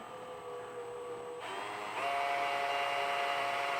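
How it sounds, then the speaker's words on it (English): A drill bores through the steel body metal of a 2023 Toyota Tacoma, a steady whining motor tone that shifts pitch as the bit bites, then settles into a louder even drone. "So just find your mark and carefully drill through."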